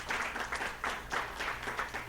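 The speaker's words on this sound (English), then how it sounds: "A round of applause for yourselves for being here and being fantastic." A live audience in Dallas at the Rose Room applauds, a fairly faint, even rattle of many hands lasting a couple of seconds with no voices.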